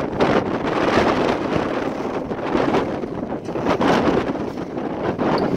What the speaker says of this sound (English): see if I can get a break from the wind if I stand underneath the bar